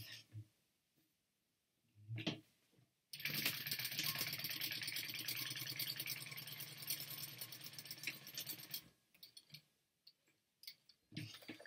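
A sewing machine stitches the bottom seam of a fabric clutch wallet at a quarter-inch seam allowance, a rapid mechanical chatter running for about six seconds between quieter stretches with a person talking.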